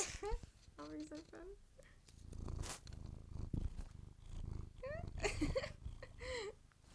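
A cat purrs in soft rhythmic rumbles close by, with a person talking over it and a few high, whistly vocal sounds mixed in.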